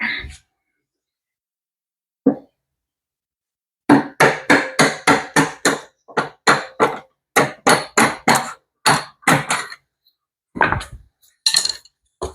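Metal hammering at a bolt in a Vespa scooter engine during teardown: after a single tap, a rapid run of sharp, close strikes, then a few scattered blows, loud and alone.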